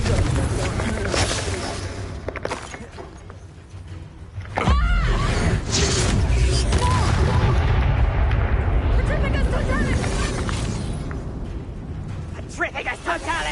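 A Confringo fire spell blasts in Hogwarts Legacy, a sudden loud explosive burst partway through that leaves a sustained roaring rumble, mixed with game combat noise and voices speaking over it.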